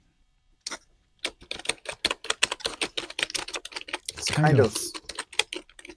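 Brisk typing on a T-Wolf (Guiheng) T80 Retro Punk Rainbow gaming keyboard, a close, steady run of sharp clacky keystrokes with a few heavier strikes, while a voice talks briefly over it.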